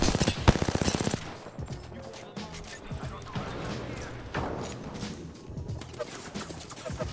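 Rapid automatic gunfire rattles in a TDM match of a shooter video game, a loud burst up front followed by more distant shots and scattered impacts amid game noise.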